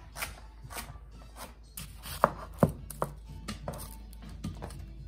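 Two large celery stalks diced small with a knife on a cutting board for cheeseburger soup, an uneven run of close, crisp chops with a few louder knocks in the middle.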